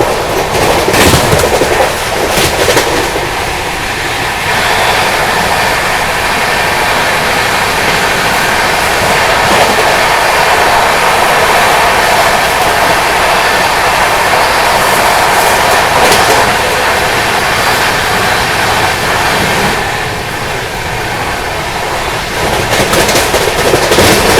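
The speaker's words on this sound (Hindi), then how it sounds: "अभी अपनी राजधानी ओवरटेक करने वाली है श्रीधाम एक्सप्रेस को।" A Mumbai Rajdhani Express speeds along in a loud, continuous rush of wheel and wind noise, heard from on board, with faint rhythmic clatter and no talking.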